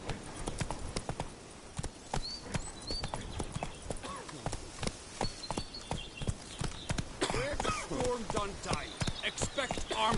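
Steady horse hooves clip-clopping in The Witcher 3 video game, a brisk continuous rhythm of close hoofbeats with faint background sounds.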